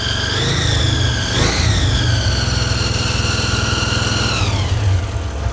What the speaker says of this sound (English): Idling kind of high.